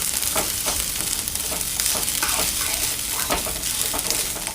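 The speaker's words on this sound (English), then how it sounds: "Let that sizzle." Chicken and noodles with a little garlic sizzle steadily in a frying pan for a teriyaki chicken dish. The frying hiss is close and continuous, broken by the scrape and clatter of stirring.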